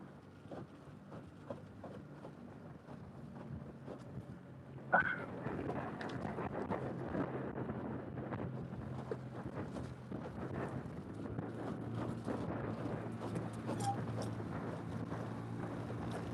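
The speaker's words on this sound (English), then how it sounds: "I want to get out of the wind a little bit" Wind buffeting a microphone outdoors at Lake Morena, a low steady rumble that starts quietly and then jumps into a louder, continuous roar with a sharp gust at the onset.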